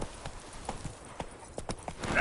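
Hooves of Roach, a horse in The Witcher 3, clip-clop at a steady walking rhythm, close and fairly quiet, with a brief soft snort near the end.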